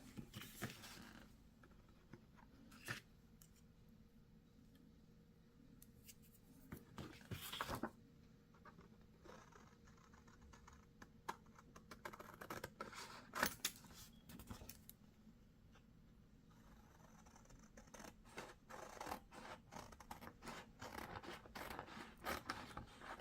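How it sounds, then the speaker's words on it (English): Quiet snipping of scissors cutting out a paper gift bag template, irregular cuts and rustles spread across a long stretch, close by with faint background hiss. "I'm just going to take and utilize my scissors to cut this out."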